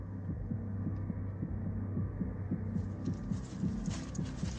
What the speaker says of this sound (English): It's built on a rhythm, using the most primal beat of all, a heartbeat.